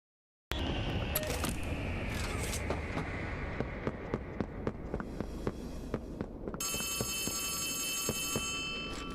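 A telephone rings in the Poppy Playtime Chapter 3 horror game, a bright electronic ring that starts partway through and holds steadily to the end over clattering game noises.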